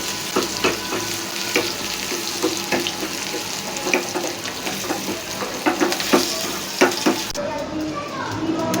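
Whole chillies frying in hot oil to a light brown, giving a continuous loud sizzle with repeated stirring clatter and scraping throughout.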